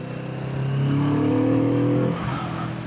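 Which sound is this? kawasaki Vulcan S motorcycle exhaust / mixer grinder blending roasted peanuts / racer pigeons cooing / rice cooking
kawasaki Vulcan S motorcycle exhaust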